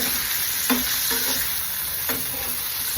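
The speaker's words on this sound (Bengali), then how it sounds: "চিনের পোলাওয়ের জন্য প্রথমে সবজিগুলোকে ভালো করে ভেজে নিচ্ছি" Vegetables frying for chire pulao (flattened rice pilaf) and being stirred in a pan: a dense, even sizzle with a couple of spatula scrapes, close and loud, no speech.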